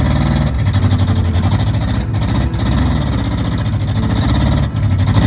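A 1972 Ford Gran Torino's engine runs on its first drive with a steady, close, throbbing rumble that holds through the whole stretch, with only brief dips.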